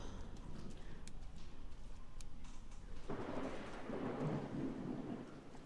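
Thunder rumbles through a rainstorm in the horror video game Obscuritas as lightning strikes, with steady rain hiss throughout and a deep, swelling roll of thunder building up in the second half.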